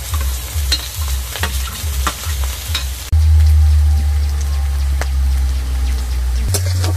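Chopped onion, carrot and capsicum stir-fried in a pan for chicken momo filling: steady loud sizzle with rhythmic scraping stirs in the first half, then a denser continuous frying hiss with occasional clicks of the spatula.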